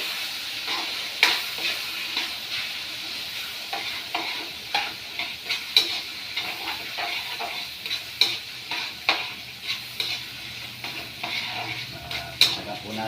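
Tilapia fries in a pan with tomato sauce while being stirred, giving a constant close sizzle and hiss with regular scraping stirs and light clinks running throughout.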